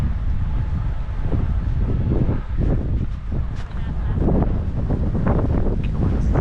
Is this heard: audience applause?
no